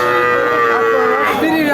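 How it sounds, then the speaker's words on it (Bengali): An eight-to-nine-month-old Kuraj breed heifer calf gives one long, loud, drawn-out moo at close range that rises toward the end, filling the whole moment at a livestock market. "আপনারা দেখতে পাচ্ছেন কুরাজ জাতের বকনা বাছুর"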